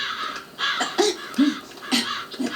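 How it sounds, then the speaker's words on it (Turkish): Several crows cawing in a Turkish short film scene, four harsh calls spaced about half a second apart against a steady background, fairly close and loud, with no talking. "Kargaları kovalıyorum."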